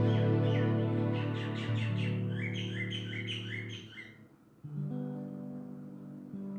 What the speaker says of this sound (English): knowing that the birds are rejoicing